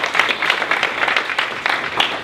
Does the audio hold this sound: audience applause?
yes